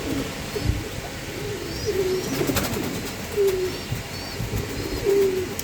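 Pigeons coo in soft repeated low calls close by, several bursts spread across the clip over a background hiss, with occasional faint chirps.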